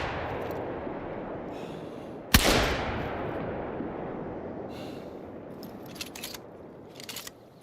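A single sharp hunting rifle shot in theHunter: Call of the Wild cracks loudly over a quiet outdoor ambience and rolls away in a long fading echo, followed by faint rustles.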